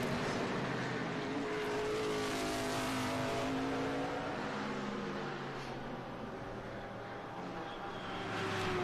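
A Callaway Corvette race car accelerates past at an SVRA SpeedTour event at VIR, its rising engine note heard among other racing cars, sustained and fairly distant, with no talk.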